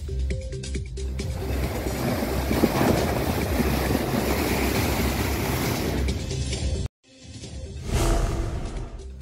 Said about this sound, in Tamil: மாண்டஸ் புயலால் கடலூரில் கடல் சீற்றம்.